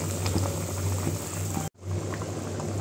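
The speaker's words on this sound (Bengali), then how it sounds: "এই যে ফুটে গেছে ঝোল" Meat curry broth bubbling in a covered pot, a steady close simmering hiss with soft bubbling, briefly cut off by a short gap before resuming.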